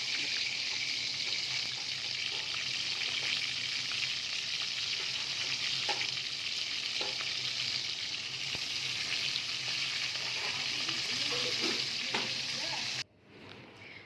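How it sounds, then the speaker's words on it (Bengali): A salted, turmeric-rubbed fish head fries in hot oil in a kadai, giving a steady close sizzle and crackle with occasional spatters, ending abruptly near the end. "মাছের মাথাটাকে আমি ভেজে নিচ্ছি।"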